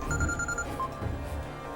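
A phone rings with a bright, repeating electronic tone, steady and fairly close, with no one speaking over it.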